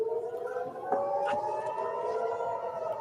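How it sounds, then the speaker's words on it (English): A distant civil defense siren in Israel wails in a sustained, slowly wavering tone, heard alone with a few faint clicks. "Okay, there's sirens in Israel."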